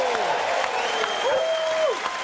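A TV studio audience at a football talk show applauds a footy player, a dense steady clapping with some voices mixed in over it.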